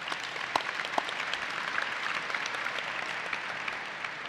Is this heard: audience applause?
yes